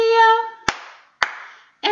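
Children clap their hands twice during the Bingo song, two sharp separate claps between sung phrases, singing heard before and resuming after.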